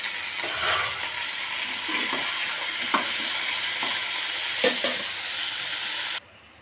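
Cauliflower, jackfruit seeds and potato frying in a pan: a constant sizzle with periodic scraping knocks of a spatula stirring, close by, cutting off abruptly at the end.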